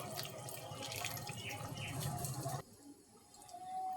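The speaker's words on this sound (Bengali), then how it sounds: "সামান্য জল দেব।" A little water is poured into a cooking pot of young jackfruit, potato and drumstick stems for a shrimp curry, making a soft, steady splashing trickle for a couple of seconds before it stops.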